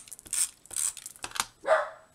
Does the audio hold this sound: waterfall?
no